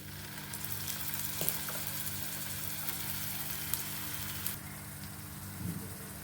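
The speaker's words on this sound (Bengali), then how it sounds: "এবারে যে বেঁটে রাখা রেখেছিলাম কুদরি এটা দিয়ে দিচ্ছি" Ground ivy gourd (kundru) paste frying in oil in a pan, with a steady broadband sizzle throughout and a few soft stirring clicks and scrapes, close and continuous with no talk.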